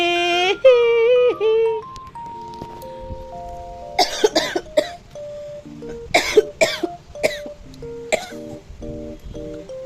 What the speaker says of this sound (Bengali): মামা কাশি হচ্ছে